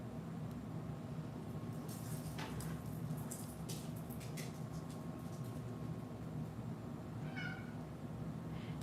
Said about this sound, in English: We hear you. Kitty's talking.